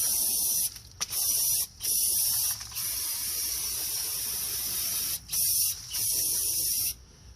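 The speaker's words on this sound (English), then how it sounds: "Let's spray this off." Several bursts of aerosol spray hiss loudly in quick succession as front brake parts are cleaned on a Chrysler Town and Country minivan, with short pauses between them; a faint mechanical rattle sits beneath.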